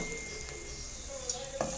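Onion frying in leftover oil from frying okra, a steady soft sizzle with a couple of light clinks of utensils.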